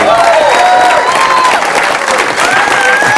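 Loud, dense applause from a comedy show audience fills the whole stretch, with some cheering and crowd noise mixed in and steady intensity throughout.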